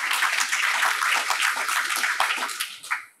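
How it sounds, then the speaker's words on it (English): A university audience gives a sustained round of applause that stays dense and loud, then thins out and fades near the end. "that does deserve a round of applause"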